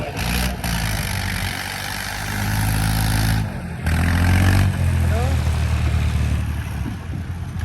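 A tractor engine runs steadily at a tractor fair in Mirpur, Azad Kashmir, its low rumble close and loud, swelling briefly midway as if revved, with crowd noise and an announcer's voice mixed over it.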